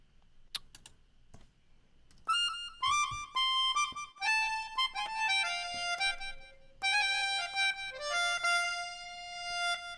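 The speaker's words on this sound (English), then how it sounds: "I knew I wanted this instrument called the melodica on this song." Melodica playing a solo line of bright reedy sustained notes, stepping through a melody near the mic, with a few soft clicks before it starts.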